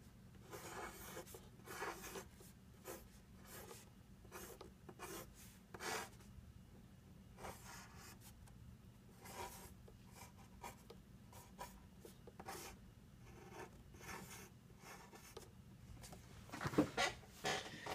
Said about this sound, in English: So I draw a storyboard.